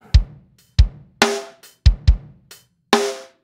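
Isolated bass drum track from an album mix, with snare bleed. Deep thumping kicks alternate with brighter, slightly stronger snare cracks in a sparse, uneven pattern, dry and close.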